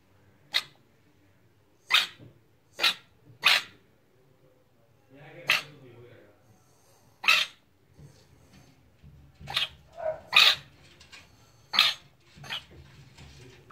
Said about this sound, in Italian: a un certo punto inizia a mettere dei suoni che sembra un abbaio, cioè fa proprio un abbaio